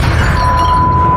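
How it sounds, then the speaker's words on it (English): Glass shatters in a short, loud burst followed by a faint ringing tone, during a ghost-hunting investigation near old tunnels. "That glass just shattered."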